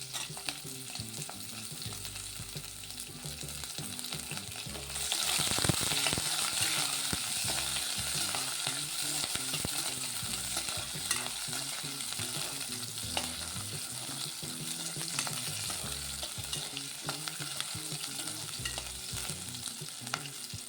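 Chopped onions sizzle steadily in hot oil while being stirred for vegetable pulao in a pressure cooker, a continuous close crackle with the scrape of a spoon running throughout and no one talking.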